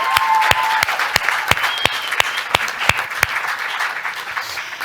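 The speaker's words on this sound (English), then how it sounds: "a big round of applause to all of you for your endurance" Crowd applause at a youth health event, a broad steady wash of clapping with a few loud, evenly spaced claps standing out close to the microphone, fairly loud throughout.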